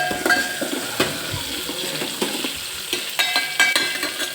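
Tomato with mustard seeds and cumin frying in a pan for sweet dal, bright sizzling with quick spoon scrapes and clinks against the metal.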